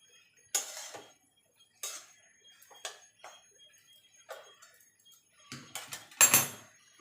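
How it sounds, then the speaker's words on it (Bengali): Bottle gourd leaf stems stirred in a pan with a utensil while cooking, sparse clinking and scraping knocks of metal on the pan spaced irregularly between quiet gaps, close and moderately loud, no voices. "ভালো করে নেড়ে দেবো।"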